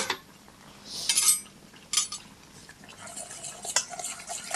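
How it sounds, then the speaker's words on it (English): Soy milk and sugar being stirred into a smooth paste for vegan vanilla custard, heard as soft scraping with light clinks of a utensil against the bowl, close and fairly quiet, with no talking. "So give that a bit of a stir"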